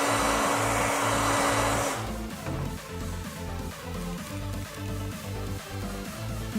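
Heat gun blowing a steady, loud stream of hot air while warming a Dbrand Dragon Skin on a Samsung Galaxy S8, easing slightly after the first two seconds but continuing throughout with no talk.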